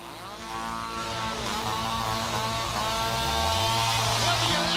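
A chainsaw engine runs steadily and loudly, a harsh buzzing drone that rises slightly in pitch partway through.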